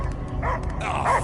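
Cosmo the dog in Marvel's Guardians of the Galaxy gives a couple of short yips and barks, up close against a dense rumbling game background.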